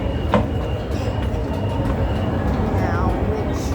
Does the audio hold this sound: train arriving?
yes